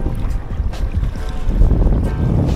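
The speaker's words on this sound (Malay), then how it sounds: "Okey guys, angin kuat, alun padu." Strong wind buffets the microphone at sea while a kayak rides rough, heavy swells during a fishing trip off Johor; a steady low roar of wind and water splash continues throughout, loud and close, with no talking.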